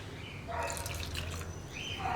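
Water poured into a potato masala curry in a pan, a light trickling, splashing pour in two short bursts over low kitchen background, close and faint, with no talking.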